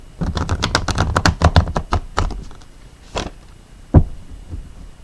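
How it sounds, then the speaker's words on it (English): Tarot cards being shuffled by hand, a rapid run of crisp riffling taps and slaps for about two seconds, then a few isolated soft card knocks, close and fairly loud with no talking. "One more shuffle."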